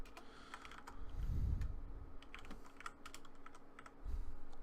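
Code being typed on a computer keyboard, a steady run of light key clicks with a few heavier thumps, close and fairly quiet with no talking.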